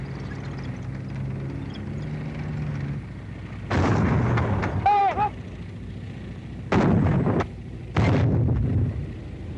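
A 37 mm anti-tank gun fires, with several sharp, loud blasts sounding alone in separate bursts and short echoing tails between them, amid faint background noise.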